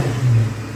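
Engine of a project car running with a new intake, a brief close low rumble that swells in a short rev and settles back, heard alone.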